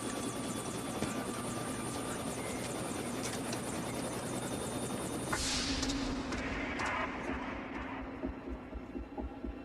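A helicopter hovering overhead, a loud throbbing rotor beat with a steady engine whine, continuous and close, shifting in tone partway through with no talking.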